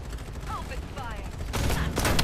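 Gunfire in the shooter Farlight 84, rapid bursts growing louder in the second half, with a brief voice line and electronic chirps over the shots.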